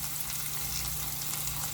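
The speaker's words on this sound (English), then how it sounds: "let it cook on medium heat for 10 to 12 minutes and potatoes should be done" Potatoes frying in butter in a pan on medium heat for breakfast burritos, giving a steady, even sizzle with no breaks and no talking.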